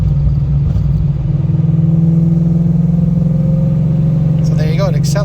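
A Ford Mustang with a Stage 3 Gen 3 transmission pulls in fourth gear after cruise control resumes, its engine a loud, steady, throbbing hum heard from inside the car, with a voice briefly speaking near the end.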